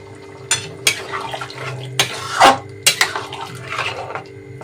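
Hot water added to a simmering mutton curry in a pot, heard as a few separate splashy pours and sharp utensil clinks against the vessel, close and fairly loud.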